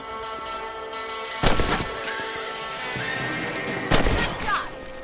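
Two loud, sharp gunshot blasts ring out a couple of seconds apart in Red Dead Redemption, each with a short echoing tail, over a steady game background.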